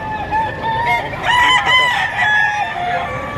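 Several roosters crow over one another at a chicken market in Padre Garcia, Batangas, their loud, close calls rising and falling while clucking and a bustling crowd carry on beneath them.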